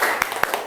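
Group of people doing the 'tepuk semangat' clapping ice-breaker in a classroom, a few sharp rhythmic claps in quick succession under a voice.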